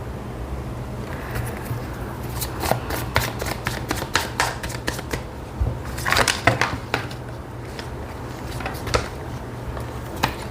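Tarot cards being shuffled by hand, rapid papery riffles and taps coming in bursts, close and fairly soft, with brief pauses between runs.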